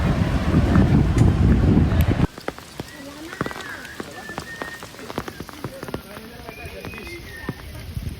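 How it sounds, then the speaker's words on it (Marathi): Heavy rain pounds loudly with wind buffeting the microphone at Matheran, then cuts to lighter, closer raindrops pattering and dripping on surfaces with scattered sharp taps. "लई पाऊस होता आणि वारा पण होता"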